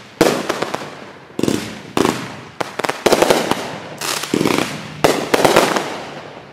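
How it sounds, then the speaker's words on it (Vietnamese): Fireworks burst loudly in a rapid series of sharp bangs and crackling volleys at a New Year celebration, several distinct explosions with short gaps between them, close and echoing. "Wow, pháo đã nè."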